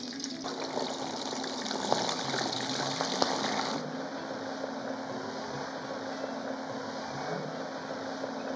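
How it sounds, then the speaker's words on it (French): Capers dropped into hot oil crackle and sizzle with a dense, steady frying hiss, close and moderately quiet, a little brighter at first and then settling into an even bubbling. "on constate que l'huile est assez chaude pour frire les capres"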